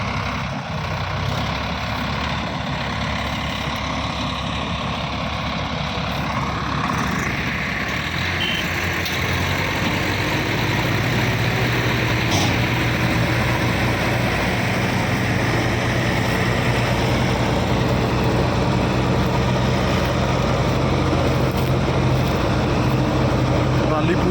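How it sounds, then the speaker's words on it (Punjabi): A JCB excavator engine runs steadily at idle in a wet field, a continuous low diesel drone with a faint reversing beep, loud and close throughout, with people talking over it. "ਹੁਣ ਜੀਸੀਬੀ ਨਾਲ ਆਪਾਂ ਕੱਢਾਂਗੇ ਲਓ ਜੀ ਹੁਣ ਮਸ਼ੀਨ ਆ ਗਈ"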